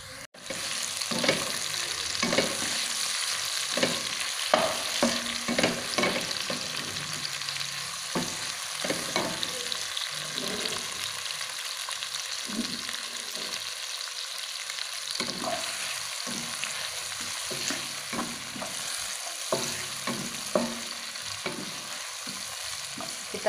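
Onion, chili, ginger and galangal stir-fried in a pan, a continuous sizzle broken by repeated spatula scrapes and tosses at an irregular rhythm, close and moderately loud, with no talking.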